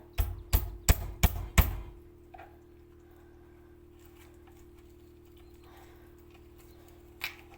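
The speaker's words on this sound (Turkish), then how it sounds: "İçine ekmek doğruyorum." Five sharp, evenly spaced chopping thuds of a knife slicing bread land in quick succession at the start, followed by quiet room tone and one faint knock later.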